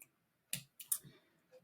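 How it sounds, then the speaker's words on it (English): Really sharp pointed scissors snip close into the corners of a stuffed fabric doll panel, giving a few crisp, quiet clicks up close, with short pauses between cuts. "I've got my really sharp pointed scissors here"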